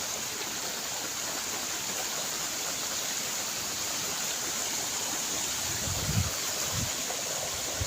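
A strong stream current in a remote mountain forest in Cavite gives a steady, unbroken rush of flowing water, close and even throughout, with a few low thumps near the end.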